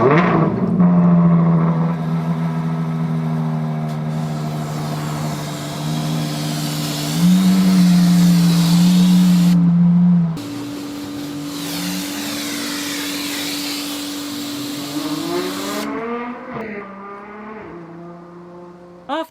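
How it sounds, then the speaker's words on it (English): A Ferrari 812 Superfast V12 fires up and pulls away, its engine droning loud and close, with revs rising and stepping through gears before fading as the car drives off. "I want you guys to hear the awesome sound of the Ferrari 812 Superfast"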